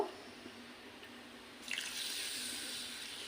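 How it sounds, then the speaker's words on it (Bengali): Sabudana (sago pearls) being rinsed in water, with a quiet trickle that turns to a steadier, brighter splashing of running water partway through, close and fairly faint. "ভালো করে জল দিয়ে ধুয়ে নিতে হবে সাবুদানা।"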